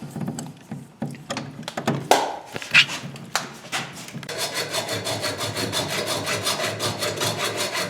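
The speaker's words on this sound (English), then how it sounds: "just put the Allen wrench in there and start tightening it up" An Allen wrench tightens a lug on 100 amp service wire in a workshop, with scattered close taps and creaks giving way to a steady rhythmic scraping and ratcheting as the screw turns.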